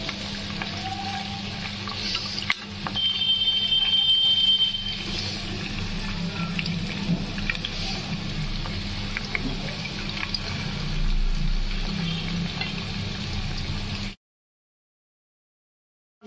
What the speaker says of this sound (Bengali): দিয়ে সমস্ত পকোড়াগুলো প্রথমে আমরা ভেজে নেব